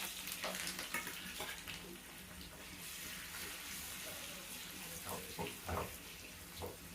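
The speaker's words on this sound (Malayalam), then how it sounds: "കരിവേപ്പിൻ്റെ ഇട്ടുകൊടുത്ത് നമുക്ക് ഈ ചെമ്മീൻ ഇതിലേക്ക് പോയിട്ട് കൊടുക്കാം" Chilli-coated prawns with curry leaves fry in a pan with a faint, steady sizzle, marked by a few brief bursts and soft clatters of stirring, quiet and close throughout.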